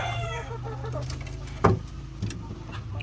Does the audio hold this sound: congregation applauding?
no